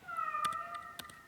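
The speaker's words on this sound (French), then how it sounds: "Alors ça, c'est mon chat que vous entendez." A cat gives a single drawn-out meow, fairly clear and close, followed by a few faint clicks and taps in a quiet room.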